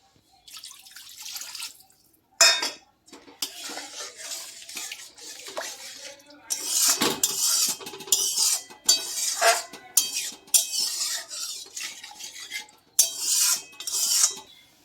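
Water tipped into a simmering paneer gravy, made without onion or garlic, splashes and trickles while a spoon scrapes and clinks against the pan in repeated close bursts, with no one talking.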